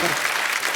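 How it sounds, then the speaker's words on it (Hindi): An audience applauding in a comedy show studio, a brief dense burst of clapping that carries on under a voice at the start. "जोरदार तालियां।"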